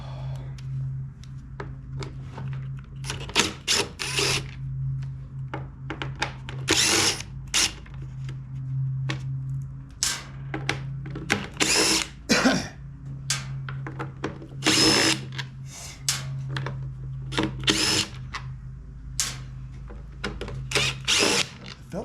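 Power drill backing screws out of an Echo PB-265L backpack blower being taken apart, many short whirring bursts in an irregular rhythm, close and fairly loud.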